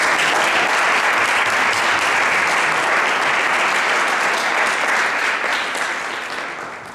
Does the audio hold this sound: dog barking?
no